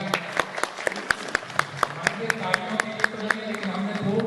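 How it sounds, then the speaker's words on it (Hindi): Audience in a Hindu temple hall in Glasgow applauding for a visiting Maharaj ji, scattered sharp individual claps standing out over a softer bed of crowd clapping, with voices murmuring underneath. "एक बार महाराज जी के लिए ताली बजा दीजिएगा।"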